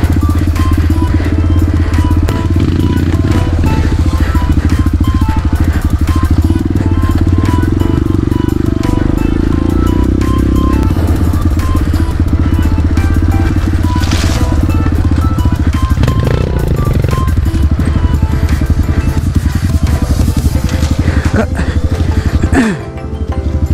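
A motorcycle engine rumbles continuously up close while riding, with occasional revs and clatter and a voice speaking now and then.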